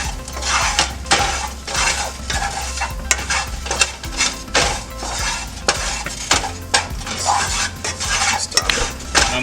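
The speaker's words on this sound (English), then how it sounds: "I'm gonna mix all that before I put in my other ingredients." A spoon stirs a curry seasoning mixture of black pepper and salt in a pot, giving repeated scraping, clinking strokes at a steady rhythm, close and fairly loud with no talking.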